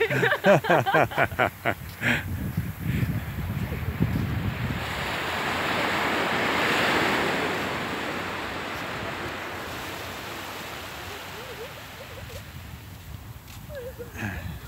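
Ocean waves break and wash up on the beach at Belmont Shore, a broad steady roar of surf swelling and fading, with wind buffeting the microphone and some faint handling noise.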